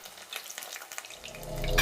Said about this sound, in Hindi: मीडियम या बिल्कुल लो फ्लेम पर इसे फ्राई करिए